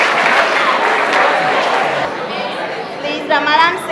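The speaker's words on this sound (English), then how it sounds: "Let's clap for him." Schoolroom audience clapping and chattering together, a loud, dense wash of hands and voices that thins midway as individual speech and a higher voice emerge near the end.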